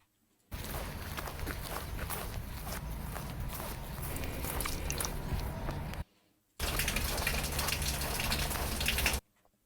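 Water droplets ambience sample: dense, steady patter of drips and splashes, fairly loud, playing in two looped sections separated by a short silence.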